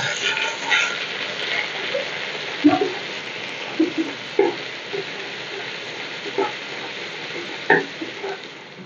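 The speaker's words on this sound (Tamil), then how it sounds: "ரெண்டு ஏலக்காய் மூணு கிராம்பு சேர்த்து பொரிஞ்சதும் பட்டை ஏலக்காய் பொரிஞ்ச பிறகு ஒரு ஸ்பூன் இஞ்சி பூண்டு விழுது சேர்த்துக்கிறோம்" Ginger garlic paste frying with cardamom, cloves and cinnamon in hot oil in a pan for paneer butter masala, a steady close sizzle broken by occasional stirring clinks and scrapes.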